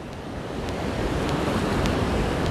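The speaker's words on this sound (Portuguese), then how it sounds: "Então vai ouvindo aí o barulho das ondas, batendo nas pedras." Ocean waves wash and crash against dark rocks at Barreira do Boqueirão beach in Japaratinga, Alagoas, in a continuous, close hiss of surf that swells slightly louder, with no voices.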